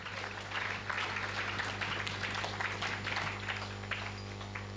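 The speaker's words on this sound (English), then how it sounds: "another round of applause." Audience applause at a wisdom summit session, a steady crowd of clapping hands heard somewhat distant over a constant low hum from the hall's sound system.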